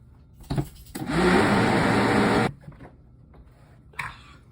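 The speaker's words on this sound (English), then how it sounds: "you're sticking it in a blender little bits at a time until you find a texture and consistency" A blender whirs for about a second and a half, pureeing a mix of rice and spinach into a smooth texture, loud and close, between quieter moments with small knocks and thuds.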